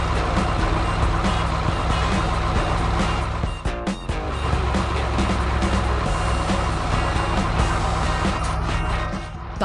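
Cartoon cargo truck at work in a sunny warehouse yard: a loud, steady engine rumble with rhythmic reversing beeps runs throughout, dipping briefly near the middle, with no talking.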